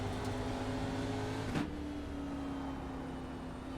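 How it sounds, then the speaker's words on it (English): Race car engine in the iRacing sim at Indianapolis Motor Speedway, a steady loud drone with a brief sharp blip as it short shifts through a corner, then settling back into a constant hum. "You can hear the short shift there as it came through that corner, then start to feed the power in again"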